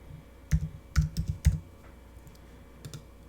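Short bursts of close keystrokes on a computer keyboard while typing into a Google Sheets spreadsheet: a quick cluster of clicks followed by a pause and two more taps, with no voices.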